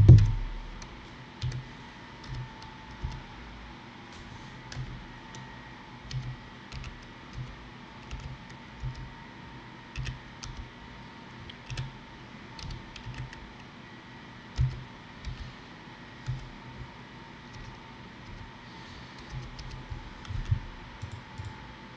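A Fortnite redemption code being typed on a computer keyboard: faint, sparse key clicks and taps come at irregular intervals over a quiet background hum.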